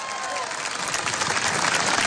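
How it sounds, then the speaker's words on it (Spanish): Crowd applause at an anniversary rally for a peace movement in Venezuela, a dense steady wash of clapping that swells slightly over two seconds, with voices mixed in. "Vale, un aplauso,"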